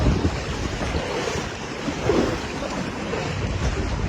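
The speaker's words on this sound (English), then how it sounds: "Look at the waves, guys." Ocean waves surge and crash over docks near a park as freighters pass, a steady broadband roar of surf mixed with gusting wind buffeting the microphone, with slight swells in loudness throughout and no voices.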